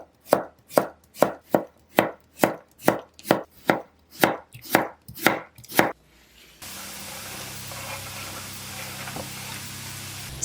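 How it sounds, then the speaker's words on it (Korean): Carrots are chopped into small pieces with a knife, about fourteen evenly spaced, crisp board knocks in a steady rhythm, then a sizzle of vegetables in a pot takes over. "당근도 작은 크기로 썰어 냄비에 넣으세요."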